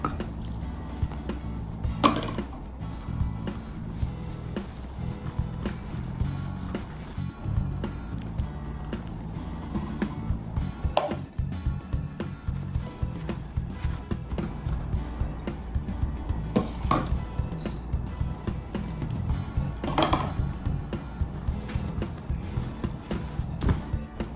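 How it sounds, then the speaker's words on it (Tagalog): Psyllium husk dough for low-carb keto buchi being mixed in a bowl, with steady scraping and soft thumping stirring throughout, occasional louder knocks against the bowl, and no talking. "Now we'll be mixing it."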